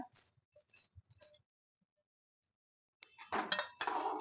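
Roasted vermicelli added to a metal bowl for milk payasam, a few light clinks and taps, a pause, then louder scraping and clattering as it is stirred.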